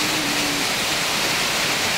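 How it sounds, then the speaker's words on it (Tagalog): A dense, steady roar of heavy rain near the seaside, broad and unbroken, with no pauses or voices. "Ang lakas ng ulan."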